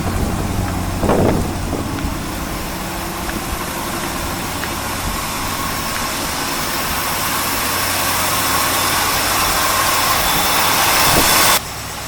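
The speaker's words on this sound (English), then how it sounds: "Alright, I got it to idle a little bit better." A 1964 Mercury Park Lane Breezeway engine idles steadily with a low, even rumble and mechanical vibration, close and continuous, with a brief knock or pop near the start and a sudden drop in level at the end.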